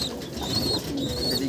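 Racing pigeons inside a loft give a steady, close, low cooing murmur that runs the whole moment without pause, with no voices over it.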